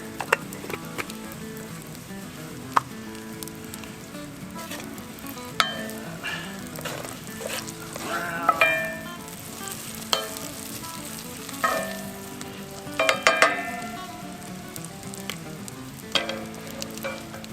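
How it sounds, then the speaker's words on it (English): Bratwursts grill outdoors with a steady close sizzle that runs throughout, dotted with sharp pops and crackles and the occasional clink of a utensil. "throw the brats on and we, yeah, should be good"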